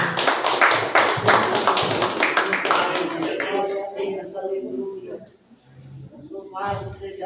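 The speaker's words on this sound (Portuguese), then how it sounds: "Presbítero Carlos Alberto, as palmas louvem o Senhor." Church congregation clapping hands together in worship, rhythmic and fairly loud for the first few seconds, then giving way to singing and music.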